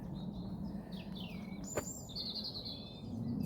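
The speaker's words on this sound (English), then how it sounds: "you can hear the bird song again." Birds sing and chirp during a country walk, several high warbling calls and tweets coming and going at moderate distance over a steady low rumble of background noise.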